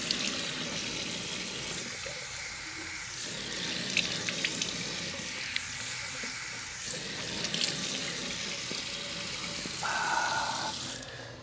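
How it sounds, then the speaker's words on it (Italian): Tap water runs steadily into a sink while someone rinses their face during a skincare routine, a continuous close hiss with small splashes and shifts in the flow. "io vado a sciacquarmi il viso intanto. Vediamo l'acqua com'è."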